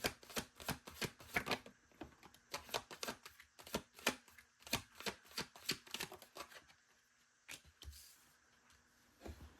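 Crisp, rapid riffling clicks of tarot cards being shuffled, coming in repeated bursts with short pauses, close and fairly quiet, no talking.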